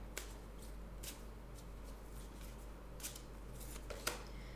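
Language of Colors oracle cards being shuffled and drawn by hand: a series of quiet, crisp card riffles and flicks in irregular bursts, faint and close, with no talking.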